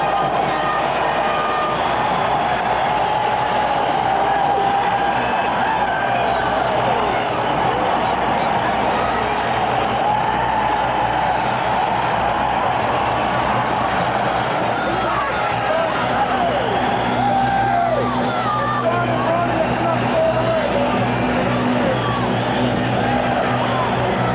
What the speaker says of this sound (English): Pavel Bure, watch the crowd go